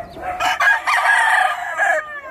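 A pure Boston bloodline gamefowl rooster at a game farm lets out one full, close, loud crow lasting about two seconds, with a short cluck at the start.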